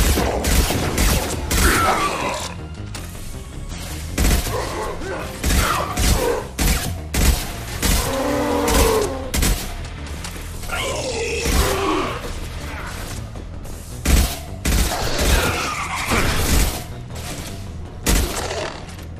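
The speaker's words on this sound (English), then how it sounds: "Heavy weapon, get down! Taking heavy fire!" Gunfire in the video game Mass Effect 2 during a combat mission, with loud repeated volleys of rapid shots and heavy booms filling the whole stretch, and a few bellowed voices mixed in.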